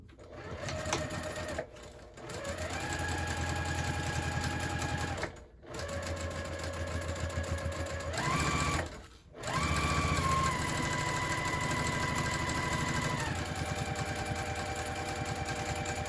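A sewing machine base-stitches around a handbag at a narrow seam allowance, running in long steady bursts with a few brief stops, its motor whine shifting pitch as the speed changes.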